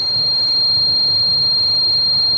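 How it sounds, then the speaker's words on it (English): A steady, high-pitched electronic buzzer on a homemade anti-theft alarm circuit drones without a break, with a faint low hum beneath it. "Buzzer blows. Stop, blow."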